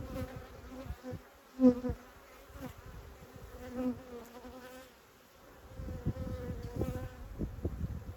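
A steady, droning hum of many honey bees buzzing close by at a hive, Carniolan and Ukrainian steppe bees, swelling and fading, with scattered faint knocks and handling noises.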